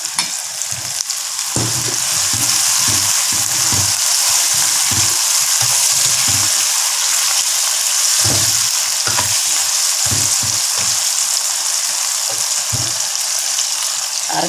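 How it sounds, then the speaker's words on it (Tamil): Eggplant sautés in a hot pan with a loud, constant frying sizzle, broken by repeated low thumps and scrapes as the pieces are stirred at an uneven pace. "நான் கத்திரிக்காயை வதக்கிக்கிறேன்."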